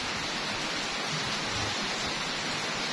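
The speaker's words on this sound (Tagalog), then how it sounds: "Sa tinatagal-tagal na ulan ragyod. Umulan na dyan." Steady rain falls continuously at an even, hissing level throughout, with no talk and no distinct drops or thunder standing out.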